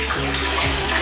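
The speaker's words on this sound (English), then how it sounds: "we're going to do the cold water pour over the chest" Cold water is poured over a child's chest in a bath, a close, steady splashing rush that continues without a break through the whole brief moment.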